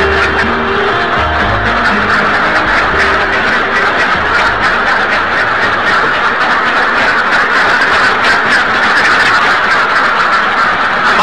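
A large flock of Alabio ducks on a village duck farm quacks continuously at close range. The dense, loud chatter of overlapping quacks goes on throughout, with some low rumbling underneath.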